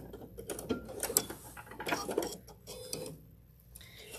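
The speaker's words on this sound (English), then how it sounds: "So back stitch a couple and then trim it." A sewing machine back-stitching to lock a seam: short bursts of rapid mechanical ticking and whirring, close and fairly quiet, separated by brief pauses.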